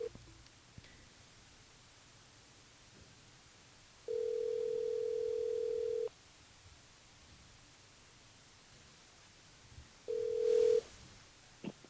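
A telephone rings on a radio station's switchboard with two steady electronic tones, a long one of about two seconds and then a shorter one, clear and close over faint background hiss.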